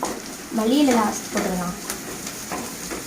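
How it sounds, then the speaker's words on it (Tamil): Egg fried rice with ginger garlic paste being stirred in a hot pan, a steady sizzle with scraping and stirring sounds up close, while a voice speaks briefly over the cooking. "நல்லா கிளறி விட்டுக்கணுமா?"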